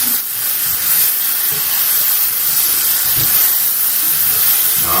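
Home fries and onions sizzle steadily in a hot pan, a loud continuous bright hiss with faint crackles underneath, no voices.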